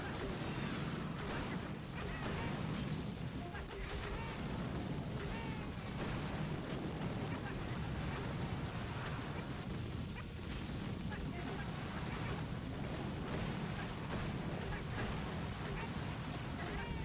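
Mortar fire during a Boom Beach battle, with steady booms and crashing impacts under a dense wash of game noise and music, continuous and loud throughout.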